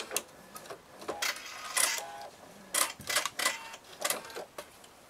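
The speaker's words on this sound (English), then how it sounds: "I'm going to sew across just a couple of times, make me feel like I've got a little better anchor on it" A sewing machine stitches back and forth across a face mask strap in short bursts of rapid mechanical whirring, close and fairly quiet, with pauses between runs.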